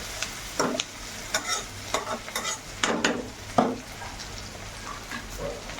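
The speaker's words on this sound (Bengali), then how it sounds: "লবণটা দিয়ে একটু নাড়াচাড়া করে নিচ্ছি" Tomatoes with salt stirred in a cooking pan over medium flame for a home-style meat curry: quiet background sizzle punctuated by repeated sharp scraping and clinking strokes of the spatula, close and intermittent.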